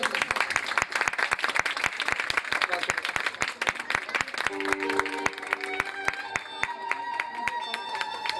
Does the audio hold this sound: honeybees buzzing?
no